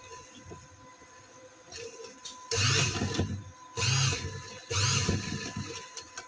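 An electric sewing machine stitches fabric for a full sleeve in three loud, rattling bursts of a second or so each, separated by quieter pauses with faint handling of the cloth.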